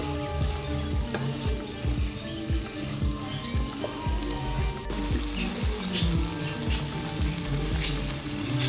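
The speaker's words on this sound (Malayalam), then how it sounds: "ഇനി നമുക്ക് ഇവിടെ ബീഫിനെയും സവാളയെയും നന്നായിട്ടൊന്ന് വഴറ്റിയെടുക്കാം." Beef and onions sautéing in a pan for a Kerala-style beef curry, a continuous close sizzle and fry with repeated scraping stirs of a spoon through the mixture, no talk.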